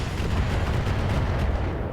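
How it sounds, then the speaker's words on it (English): Hetzer fires on a Centurion mech in the video game RogueTech, producing a dense, continuous rumbling roar of heavy weapon fire and blasts that stays loud and steady throughout. "The Hetzer is firing on our Centurion."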